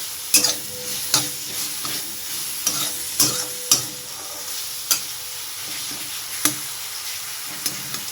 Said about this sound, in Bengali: এদিকে আমার ধনে পাতা বাটাটাও হচ্ছে এটাও মোটামুটি জল সব শুকিয়ে এসছে এবার একটু ভাজাটা হলেই হয়ে যাবে